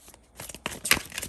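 A deck of tarot cards shuffled by hand gives a few quick, close papery riffles and flicks in a brief, soft burst.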